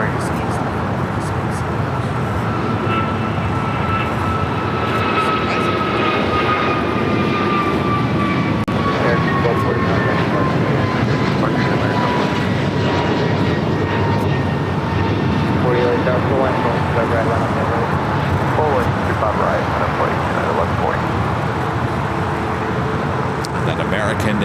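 An Airbus A350-1000 airliner takes off from runway 25 right at LAX with a loud, sustained jet-engine roar and a whine that slowly falls in pitch as the power builds, heard alone throughout.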